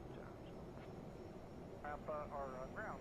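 A CRJ 550 jet engine spools up in a flight simulator game, a steady low rumble that persists throughout while radio voices talk over it in the second half.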